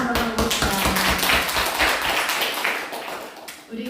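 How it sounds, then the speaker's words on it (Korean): A church congregation claps their hands together during a Sunday service, a dense run of overlapping claps that fills the room for several seconds and then fades, with a voice briefly audible underneath. "박수 한번 해봅시다"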